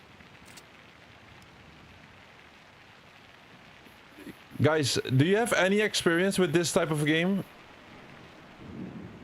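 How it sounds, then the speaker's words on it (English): Rain and thunder from a storm in the airport-management game SimAirport make a steady low hiss and rumble throughout, partly covered midway by someone talking. "There's a storm going on."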